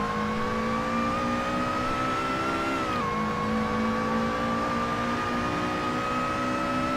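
A Lotus racing car engine in Assetto Corsa on PS4 drones loud and steady as it drag-races down a back straight, its pitch dipping briefly at a gear change before climbing again.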